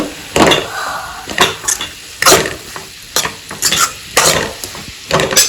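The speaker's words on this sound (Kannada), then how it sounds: "ಇದನ್ನೆಲ್ಲ ಫುಲ್ಲು ಮಿಕ್ಸ್ ಮಾಡ್ಕೊಳ್ಬೇಕು" Momo filling mixture stirred in a pan, with repeated scraping and clattering strokes over a steady sizzle, close and fairly loud, in irregular bursts.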